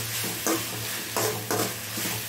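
Tomatoes with salt sautéing in a pan for tomato rice, a low steady sizzle with a few brief louder stirring scrapes, close and continuous with no talking.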